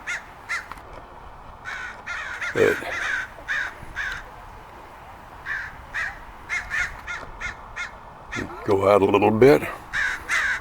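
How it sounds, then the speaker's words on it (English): Crows caw repeatedly at a Cooper's hawk perched high in a redwood beside an elementary school, harsh calls coming in irregular bursts, some near and loud, others fainter, with someone speaking briefly among them. "crows are giving it grief. They're not getting too close, but they've been making passes"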